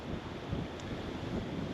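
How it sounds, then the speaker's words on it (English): Strong wind buffets the microphone in a constant low roar, with no voices, for a couple of seconds, on a day hike at Highland Anderson Lakes Park at about 40 degrees. "It's very windy."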